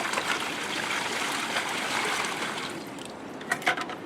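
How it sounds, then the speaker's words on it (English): Water runs steadily into a large tub, a continuous close splashing and trickling that fills the first few seconds, then thins out into a few separate drips and splashes near the end, with no talking. "and then fill it with water."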